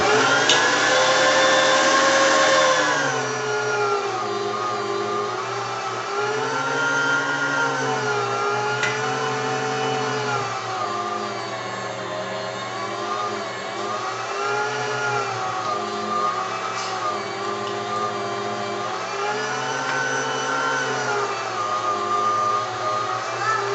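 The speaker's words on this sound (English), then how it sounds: "And I'm gonna go ahead and grind it right now." An electric Turbo Force STX meat grinder grinding deer meat gives a loud, continuous motor whine close by. Its pitch dips and rises as the load changes, with a faint voice underneath.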